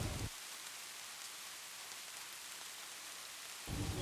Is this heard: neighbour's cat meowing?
no